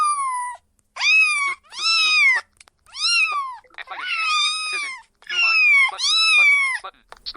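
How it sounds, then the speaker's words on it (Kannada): Two cats meowing back and forth in long, wavering, tuneful cries, several drawn-out calls in a row with short pauses between, close and fairly loud. "ಬೆಕ್ಕು ಸಾಂಗ್ ಆಡ್ತಾ ಐತೆ."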